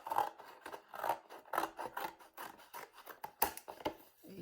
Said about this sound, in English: find a cereal box or a cracker box, and then just take your scissors